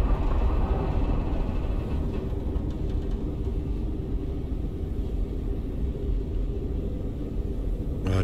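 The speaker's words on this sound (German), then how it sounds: "Ja, dafür ist der Sturm jetzt gleich vorbei." A storm in the video game Icarus rumbles as a loud, continuous low roar, dense and steady throughout with no pauses.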